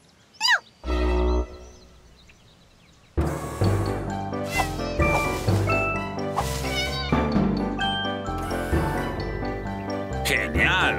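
Cartoon cats meow and caterwaul, starting with a few short separate cries and then breaking into a loud, busy stretch of overlapping yowls with music and voices mixed in.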